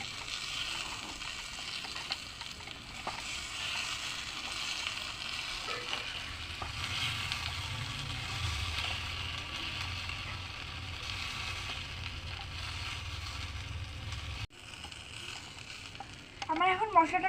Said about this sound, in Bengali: এটাকে দিয়ে আমি একটু কষিয়ে নেবো এটাকে